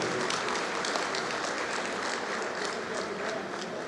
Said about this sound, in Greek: νομίζω ότι αξίζει ένα πολύ δυνατό χειροκρότημα